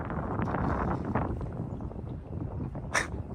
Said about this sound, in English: That wind picked up on this little deal.